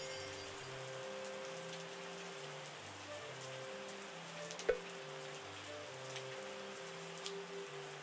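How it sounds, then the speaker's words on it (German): Soft, steady rain patters continuously in the vineyard-management video game Terroir, faint beneath a slow, calm melody, with one brief click in the middle. "das regnet und regnet"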